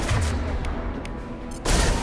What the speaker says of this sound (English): A misplaced shot can cause a significant explosion.